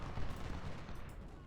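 Cannon and rifle fire from the Civil War strategy game Ultimate General: Civil War, set at the Battle of Washington, rumbles as a continuous low, dense barrage. The distant-sounding battle noise runs for the full moment.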